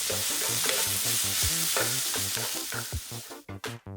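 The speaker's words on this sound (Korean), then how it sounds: "표고버섯, 당근 넣고 골고루 볶아서" Shiitake mushrooms, carrots, paprika and onion stir-fried in a hot pan, a close, steady sizzle with rhythmic scraping and tossing of the spatula, and a few sharper clatters near the end.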